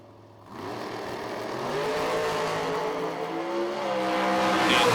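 Drag-racing roadsters launch side by side down the strip at a Texas summer shootout, engines roaring and rising steadily in pitch and loudness as they accelerate away, with no talk over the noise.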